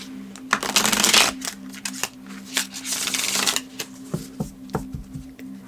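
Tarot cards are shuffled and drawn by hand, with quick riffling bursts and crisp single snaps and taps close to the microphone in a quiet room.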